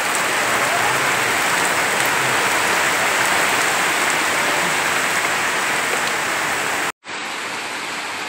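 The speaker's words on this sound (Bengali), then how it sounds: "কি ভীষণ বৃষ্টি হচ্ছে" Heavy rain pouring down during a storm, a dense continuous hiss that stays loud and unbroken, with a brief dropout near the end.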